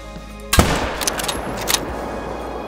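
A sharp, loud 7mm rifle shot rings out while hunting kangaroos in Call of the Wild, followed by a few fainter cracks and echoes, with no talking.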